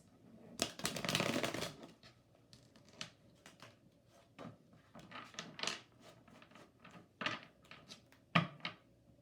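Lenormand cards being shuffled by hand, a riffling burst followed by a string of irregular soft snaps and slaps, close and quiet with no voices.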